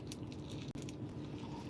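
Bites into a crunchy, crisp-bottomed cinnamon roll, a steady close crunching and chewing that runs on with only a brief pause partway through, with no talking.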